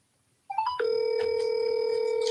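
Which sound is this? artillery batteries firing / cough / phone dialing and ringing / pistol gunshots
phone dialing and ringing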